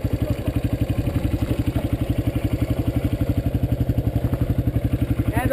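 A dirt bike engine runs close by, with no air filter and a red fender, chugging in a fast, even, pulsing rhythm that stays loud and steady throughout.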